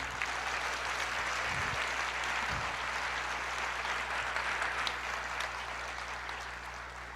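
A church congregation applauds the Lord in a continuous, fairly distant wash of clapping under a low steady hum, even and unbroken throughout.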